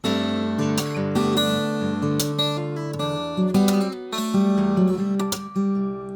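Acoustic guitar strums a rhythmic chord pattern for the second chorus of a song, bright and close, with short strummed accents and ringing chords, no voices.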